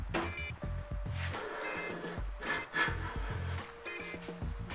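A Harbor Freight smoothing plane takes shavings off a wooden board, repeated close, rasping strokes of the blade across the wood, rhythmic and fairly quiet, with no voices.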